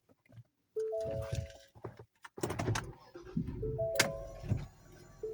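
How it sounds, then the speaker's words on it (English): A 2023 Ford Explorer starts on a newly programmed key. Close-up clicks and electronic chime tones come first, then the engine catches with a broad rumble that settles into a steady idle, punctuated by a few more chimes. "The new key has started the car."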